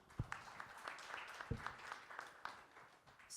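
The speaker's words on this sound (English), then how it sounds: "Applause, Raj." An audience at a venture capital panel event applauds, a brisk, moderately loud burst of clapping with a few sharper individual claps standing out, lasting about three seconds.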